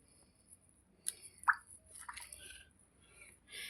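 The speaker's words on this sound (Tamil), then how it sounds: "கிழங்கு தண்ணியில் போட்டு நல்லா வாஷ் பண்ணிக்க போகிறோம்." Mudavattukal tuber is washed in water: scattered soft drips, plops and squishy splashes come close and intermittently, with quiet stretches between them.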